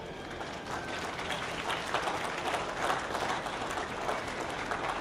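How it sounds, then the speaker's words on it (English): An audience at a 4-H and FFA dairy cattle show gives the exhibitors a round of applause, a steady, full crowd clapping that holds at even strength for five seconds in a large arena. "I think these exhibitors need a huge round of applause"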